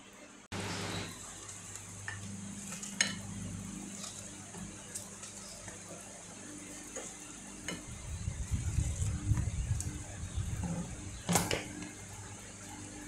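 Pansit bihon rice noodles with spinach and beans being stirred and fried in a pan, with a soft steady sizzle that swells into louder scraping stirs in the second half, while a person talks over it.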